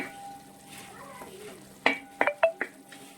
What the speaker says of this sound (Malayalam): ഓട്സ് ചേർത്തതിന് ശേഷം നമ്മൾ നന്നായിട്ട് ഇളക്കി യോജിപ്പിച്ചതിന് ശേഷം ഇത് മൂടി വെച്ചൊന്ന് വേവിക്കണം.